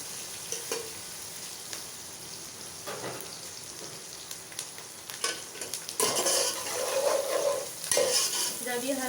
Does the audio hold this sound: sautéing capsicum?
yes